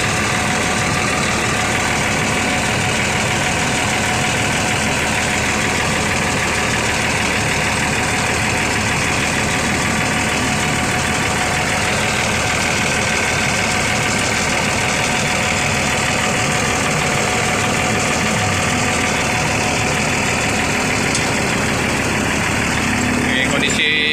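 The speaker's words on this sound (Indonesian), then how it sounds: "Ini kondisi mesinnya teman-teman 1521." A Pelangi long-distance bus engine runs at idle throughout, a steady broadband rumble with a constant low drone, with people talking over it at times.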